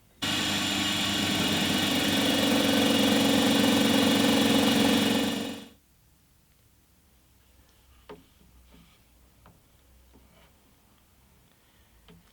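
A homemade DIY drum sander runs with a loud, steady whirring roar, then winds down and cuts off about halfway, leaving quiet room tone with a few faint clicks and knocks.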